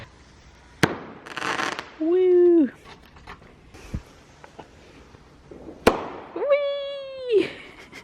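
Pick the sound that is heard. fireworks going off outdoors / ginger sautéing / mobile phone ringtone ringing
fireworks going off outdoors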